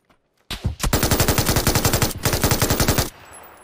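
MG3 machine gun in PUBG firing two long bursts of rapid, evenly spaced shots, very loud and close, with a brief gap between the bursts and a short fading tail at the end.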